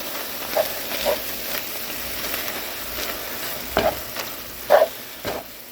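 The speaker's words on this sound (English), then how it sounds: "Okay, I have the rice and salsa. I'm going to give that a good mix." Rice and salsa stirred into browned ground beef for a burrito casserole, a soft scraping and light sizzling with a few sharper spoon clinks against the pan, heard up close with no talking.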